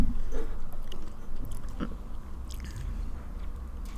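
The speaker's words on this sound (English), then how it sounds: "Very crunchy cookies, though." Crunchy cinnamon-spiced toffee cookies being bitten and chewed up close, with a few crisp crunches and steady mastication sounds and no talking.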